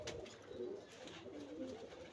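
Home-loft pigeons coo softly and continuously, faint and a little distant, with no voices over them.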